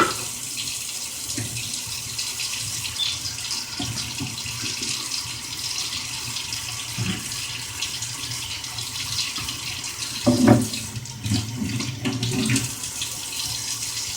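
Tap water runs steadily into a sink for a long stretch, with occasional clunks and splashes as vegetables are rinsed under the stream.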